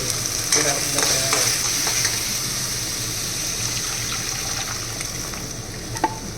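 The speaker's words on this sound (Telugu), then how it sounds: "ఇప్పుడు చింతపు చేసిన తర్వాత మళ్ళీ గరిటతో మనం ఇలా తిప్పుకోవాలండి" A ladle stirs tamarind fish curry in a pot, giving a steady bubbling, scraping texture that runs continuously with a few sharper clinks, close and moderately loud with no talking.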